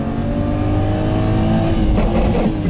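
A car accelerates hard in a street race, its engine roaring loud and steady with a rising, droning rev and a slight change of tone near the end.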